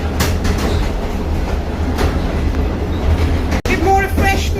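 Steady rolling rumble of a passenger train running on rails through the Hungarian countryside near Kiskunfélegyháza, continuous and fairly loud with faint clicks, briefly interrupted by a sharp cut near the end.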